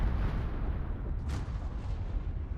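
A Kremlin battleship fires a broadside in the naval combat game World of Warships, heard as a deep, sustained rumbling boom that rolls on without a break, heavy and loud, with no voices.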